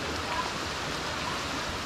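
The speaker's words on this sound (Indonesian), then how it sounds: "Kok kayaknya hujan ya?" Steady rain falls and patters continuously on a surface, a dense, even hiss that stays loud and close for the whole short stretch, with no voices heard.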